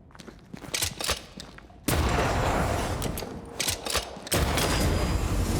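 Gunfire in the action RPG Banishers: Ghosts of New Eden, with rapid repeated shots crackling over a dense, steady wash of combat noise that swells into a louder, sustained barrage partway through.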